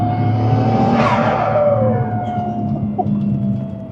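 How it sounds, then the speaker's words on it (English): A fully built Nissan R33 Skyline GT-R 400R with a twin-turbo RB engine drones loudly and steadily. About a second in, a sharp hissing rush of air from the blow-off valve sweeps downward, then the engine note settles. "I don't even know what makes a blow-off valve or compressor surge sound like that"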